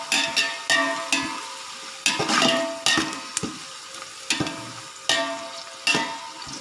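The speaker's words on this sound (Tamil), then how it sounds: "அந்த ஃப்ளேவர் பச்சை மிளகாவும் புதினாவோட ஃப்ளேவர் இறங்கணும்" Green chillies and mint sautéing in oil for a Muslim-style beef biryani: repeated sharp scrapes and clanks of a ladle stirring against the pot, roughly once or twice a second, over a low sizzle, close and fairly loud, no talking.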